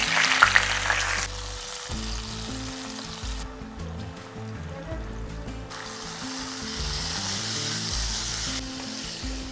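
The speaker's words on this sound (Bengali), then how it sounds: "এরপর ডালটাকে একটু এর সাথে ভাজা ভাজা করে নেব।" Soaked urad dal tossed into hot oil with cumin and fennel seeds sizzles steadily for several seconds, a loud crackling hiss that settles into a continuous fry with soft stirring scrapes.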